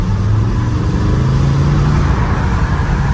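A BMW Z8 engine accelerates loudly nearby, a dense, steady roar with a rising tone through the middle and no voices over it.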